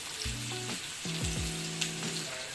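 Onions frying in hot oil in a pan for a rustic village-style chicken curry, a steady close sizzle that keeps running alone with no talking.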